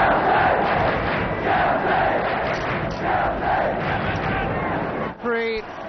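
A happy crowd of 50,000 at a 1969 First Division football match with Everton top of the table fills the stadium with a dense, continuous roar of voices. Near the end a brief rising whistle sounds over it.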